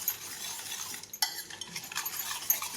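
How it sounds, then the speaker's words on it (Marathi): A spoon stirs chopped jaggery into milk in a pot, scraping and clinking lightly against the metal in a close, continuous rhythm with no voices. "गूळ आणि दूध छान असं एकजीव होईपर्यंत मी हे असं ढवळून घेणार आहे"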